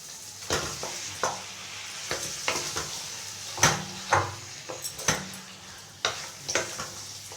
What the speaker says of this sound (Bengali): এবার আমি ম্যারিনেট করা চিকেনটা দিয়ে দিচ্ছি।